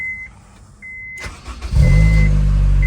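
A Honda S2000 engine cranks briefly and catches, rising into a loud, close, steady idle after a short quiet lead-in with a faint chime.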